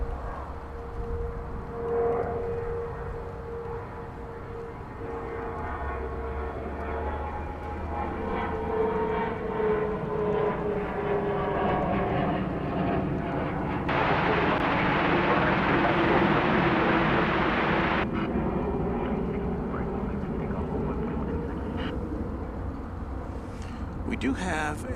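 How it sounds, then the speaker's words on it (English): A Boeing Dreamliner airliner taxis toward the takeoff position at DFW Airport at night, a steady distant jet whine with a broad roaring swell midway, heard under people talking. "We do have a Dreamliner, which is approaching the takeoff position on runway 36 left."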